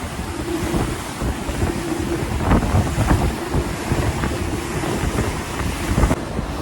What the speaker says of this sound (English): We getting beat up with the waves just to get on top of them.